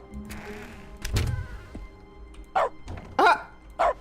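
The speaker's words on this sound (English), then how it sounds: "So every time I click, we hear a dog bark" Short dog barks triggered by mouse clicks in The Stanley Parable video game, three sharp yaps spaced about half a second apart near the end after a couple of softer thumps and electronic tones.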